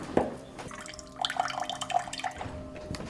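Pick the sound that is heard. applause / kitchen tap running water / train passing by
kitchen tap running water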